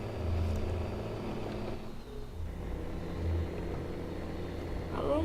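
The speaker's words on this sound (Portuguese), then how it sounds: "Deixar gritar o caminhão que não anda." A lowered truck engine in Euro Truck Simulator 2 drones and revs loudly and close, holding a steady throbbing rumble with a brief dip in the middle before climbing again.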